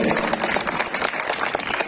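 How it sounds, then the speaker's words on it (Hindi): A crowd in Trilokpuri greets Aam Aadmi Party leader Atishi with loud, vigorous clapping that stays dense and strong across the short stretch. "एक बार फिर से जोरदार तालियों से स्वागत"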